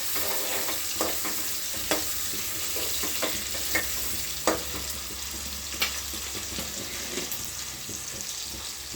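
Curry is stirred in a pan over a quiet background sizzle, with a spoon scraping and tapping against the metal in regular strokes spaced about a second apart.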